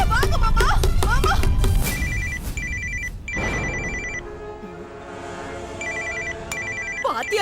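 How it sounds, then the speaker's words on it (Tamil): An indoor telephone rings in short repeated electronic bursts, with scuffling household sounds and a brief pause between rings. "பாத்தியாப்பா மணி அடிக்குது."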